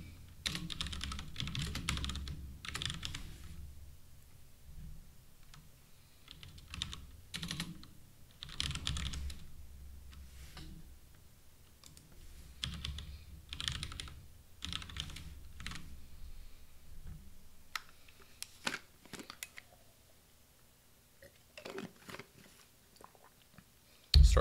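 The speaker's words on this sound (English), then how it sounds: "I'm just using my keyboard to kind of navigate there" Computer keyboard typing while navigating a coding project, with bursts of close, rapid key clicks separated by short pauses, continuing steadily with no voice.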